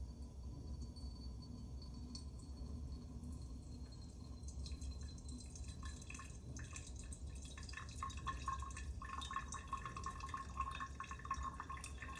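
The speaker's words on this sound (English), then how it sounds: "This pouring process is going to be a little slow." Liquid is poured slowly beside a sink, giving soft, faint dripping and trickling sounds over a quiet, steady background hiss, with no voices.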